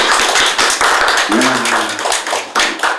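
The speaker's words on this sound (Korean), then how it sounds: "우리 정대승 집사님한테 박수 한번 쳐." Audience applause in a church gathering: dense, loud clapping throughout, with a voice briefly calling out over it midway.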